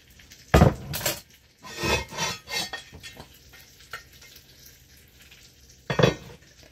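Small pieces of cut garlic drop into a cooking pot, giving a few distinct clattering knocks and scrapes of metal and utensil at close range, separated by quieter gaps.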